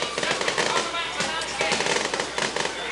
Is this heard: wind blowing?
no